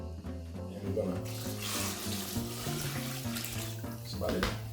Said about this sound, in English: I wanna add just a little more water.